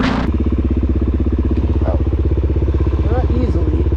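An off-road dirt bike engine runs steadily at close range in San Diego, its rapid regular firing pulse loud throughout, with voices talking over it.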